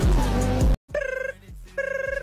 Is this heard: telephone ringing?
yes